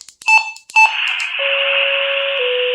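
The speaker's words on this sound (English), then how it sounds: "There we go. There's some fire tones." Loud fire alert tones through a Motorola APX Bluetooth remote speaker mic: short high beeps, then a sustained two-tone chord with a steady lower tone shifting slightly in pitch.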